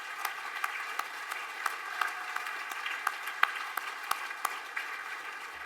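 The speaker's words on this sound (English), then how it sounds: "let's give them a round of applause" A banquet audience at a road and bridge builders' association chairman's speech applauds steadily, a dense wash of many hands clapping with sharper individual claps standing out, moderately loud and without talk.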